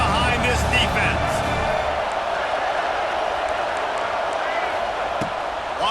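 A football stadium crowd roars behind the defense on a big third down late in a Wisconsin versus Tennessee game, a loud sustained cheer under a play-by-play announcer's voice.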